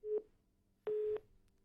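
Telephone busy signal on a phone line during a live news call, two steady tone beeps, one short and one longer, separated by a gap, clear and alone without talk.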